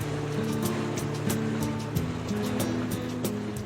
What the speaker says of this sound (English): I'm on a wibbly-wobbly boat.